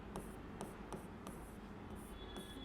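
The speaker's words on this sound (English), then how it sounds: "so I'll write acetone over here" Pen or marker writing 'acetone' by hand on a surface, a steady scratchy rubbing with several quick stroke bursts, close and clear with no talking.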